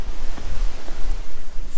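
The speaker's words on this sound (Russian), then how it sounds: "Ветра очень сильные." A strong gusting wind, said to blow in from Kalmykia, buffets the microphone outdoors in rural Stavropol Krai, with loud, uneven rumbling gusts throughout and no speech.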